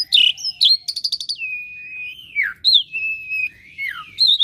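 An Asian pied starling (jalak suren) sings alone at close range, a run of bright whistled notes, rapid chattering bursts and long sliding whistles that rise and fall, repeated in phrases with short gaps.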